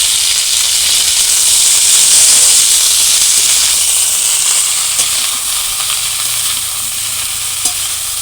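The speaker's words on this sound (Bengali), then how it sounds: "এটা হালকা হালকা করে এইভাবে নাড়তে থাকবো আর ভাজতে থাকবো" Salted cauliflower fries in a pan with a loud, continuous sizzle and hiss, and occasional soft scrapes as it is stirred.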